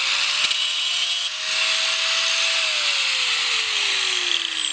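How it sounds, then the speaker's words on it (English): Angle grinder cutting through scrap copper and metal parts, a loud continuous high-pitched grinding whine with a falling pitch as the disc loads up, steady throughout with no talking. "When I do these things, I always take a grinder and start grinding everything."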